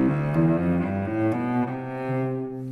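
Notes of a major scale step upward one after another at an even, moderate pace on a sustained, harmonically rich instrument, played close and alone with no talking.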